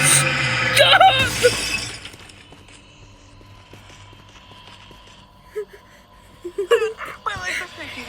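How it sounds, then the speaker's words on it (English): Glass shatters loudly at the start in the horror game Midnight Hours, a crashing burst of breaking fragments that dies away within two seconds, followed by quieter game sounds and brief frightened vocal noises. "Glass broke and that scared me."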